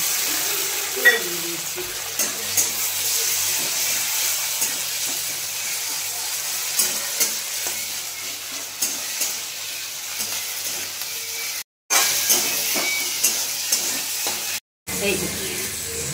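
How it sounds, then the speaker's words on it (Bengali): Onions frying in oil for a Bengali mouri katla fish curry, a continuous loud sizzle with bursts of crackle and scraping from stirring and two brief dropouts near the end. "এগুলো ভালো করে ভেজে নেবে।"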